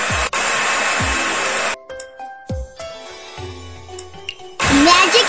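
A magic hair dryer in the Shimmer and Shine video game blows in loud steady whooshing bursts, stopping briefly while short chiming game tones play, then roaring back on.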